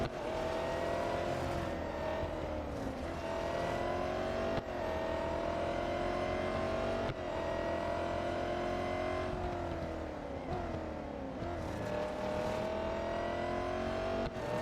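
A Cadillac race car in the racing game Real Racing 3 roars continuously at high revs, with its engine pitch repeatedly dipping and rising as it brakes and slides. The sound is loud and steady, with no talk.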